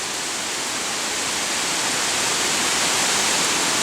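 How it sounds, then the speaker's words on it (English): Heavy rain pours outside during Hurricane Irene, a dense, steady, loud hiss that swells slightly toward the end, with water pooling on the ground and no voices heard. "it's really raining hard out here"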